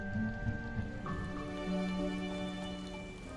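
Steady rain falls in the game Midnight in Salem, a soft constant patter mixed with sustained tonal background music, with no speech.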